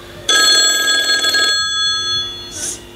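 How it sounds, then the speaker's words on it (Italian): A mobile phone rings with a loud, bright electronic trill lasting about a second, then fades into a quieter tone, close and without talk. "Forse mi squilla il cellulare."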